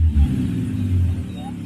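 Stock muffler exhaust of a Mitsubishi Lancer GSR idling with a deep, steady low rumble and slight swells of revving, close and loud with no talk.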